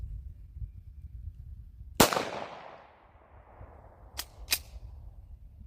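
Gunshots at a shooting range: one sharp, loud crack with a long echoing decay, then two quicker, fainter reports a couple of seconds later, over a low rumbling background.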